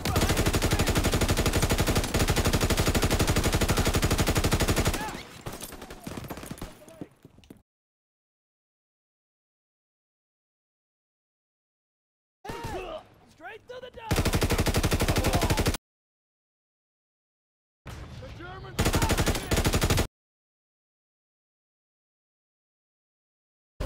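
Rapid machine-gun fire from the Call of Duty: WW2 campaign comes in three loud, dense bursts, the first long and the others shorter, separated by stretches of silence.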